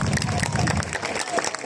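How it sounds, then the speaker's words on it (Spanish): A short burst of audience applause for a group of children, loud and dense, with crowd noise mixed in and thinning toward the end. "para ellos un fuerte aplauso"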